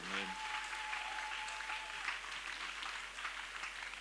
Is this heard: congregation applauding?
yes